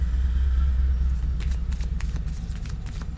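A deck of reading cards being shuffled, a run of crisp riffling flicks over a steady low rumble of background noise, close by and without talk.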